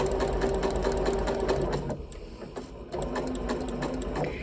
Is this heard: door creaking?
no